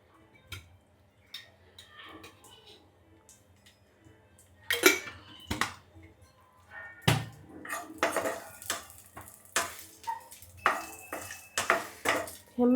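Grated coconut roasting in a little oil in a pan on a weak gas flame, soft faint sizzle under repeated scraping and clinking of a spoon against the pan, the stirring growing busier toward the end.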